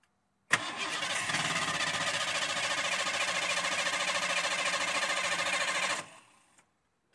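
A Ford Mustang GT 5.0L engine's starter cranks continuously for about five and a half seconds, a fast even whirring grind that starts and stops sharply, close and loud.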